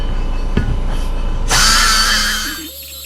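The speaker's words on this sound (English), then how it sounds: "You know, use this cross-cut burr." A cross-cut carbide burr on a rotary grinder works down a casting line on a cast LS 5.3 intake manifold. A few soft knocks come first, then the high-pitched whine and close, rasping grind start abruptly and taper off after about a second.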